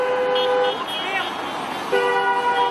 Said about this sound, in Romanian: Toată lumea claxonează